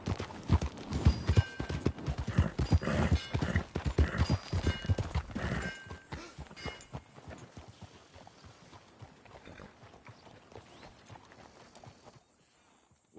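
Horse hooves clip-clop at a steady walking pace in Red Dead Redemption 2, loud and close at first, then growing fainter as the rhythmic steps trail off, with faint background voices.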